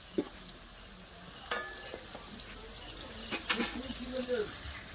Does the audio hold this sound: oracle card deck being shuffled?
no